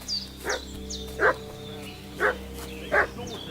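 A dog in the video game Kingdom Come Deliverance 2 barks in a slow series of four or five single woofs spaced about a second apart, mid-distance over a steady ambient hum, with no voices.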